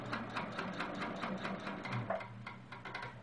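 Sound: sewing machine stitching a quilt block

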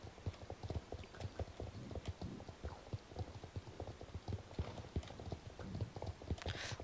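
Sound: horse hooves clip-clopping in video game Star Stable Online

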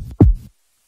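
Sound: cartoon heartbeat sound effect

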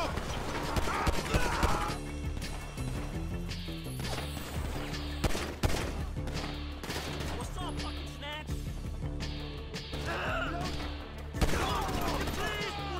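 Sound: gunfight gunfire in the video game GTA V

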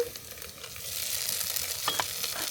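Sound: frying whole spices with ginger, garlic and cumin paste

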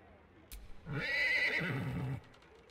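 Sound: horse neighing in a video game

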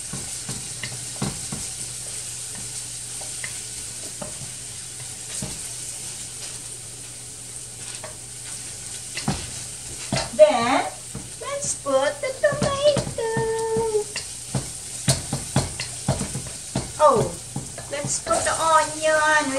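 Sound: garlic frying in oil

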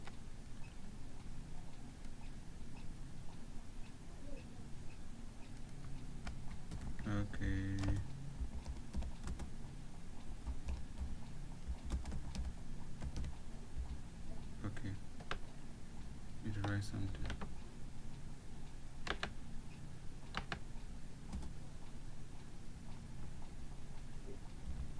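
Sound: typing on a computer keyboard in Microsoft Word

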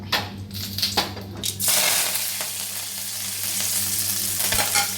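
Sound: tempering mustard seeds, shallots, curry leaves, dried chillies

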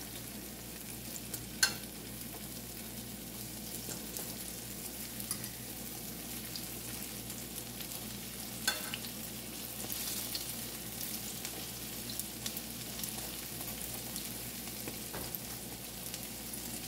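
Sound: banana fritters frying in pan

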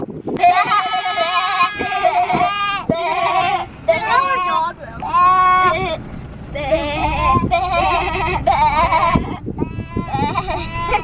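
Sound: flock of sheep bleating

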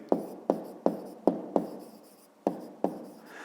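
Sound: writing numbers by hand

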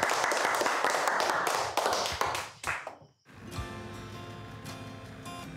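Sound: applause, people clapping

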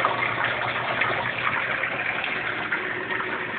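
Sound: water pumping out of aquaponics pipe

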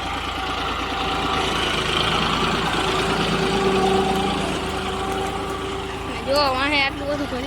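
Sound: tractor engine running on a farm

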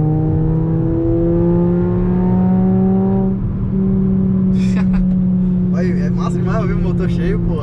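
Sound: Volkswagen Jetta five-cylinder engine revving with straight-pipe exhaust

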